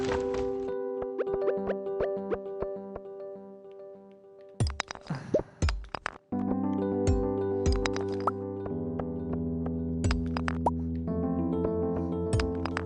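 Stardew Valley gameplay sounds: a few short, hard clunks from striking rocks set against plinking, tinkly game music, with several sharp hits in the middle.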